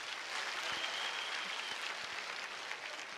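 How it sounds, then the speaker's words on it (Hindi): An audience at a Hindi poetry gathering applauds, a sustained, even wash of clapping from many hands that holds steady throughout with no talk over it. "एक बार आप जोरदार तालियां और बजा देंगे तो मुझे अच्छा लगेगा।"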